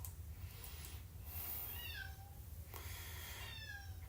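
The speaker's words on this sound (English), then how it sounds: "Oh, I hear my cat outside meowing for attention." A house cat meows outdoors for attention, a few faint, distant plaintive cries rising and falling over a steady low hum of room noise.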